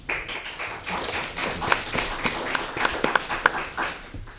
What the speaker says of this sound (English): I'd like to ask the audience if you would mind refraining from applause after each answer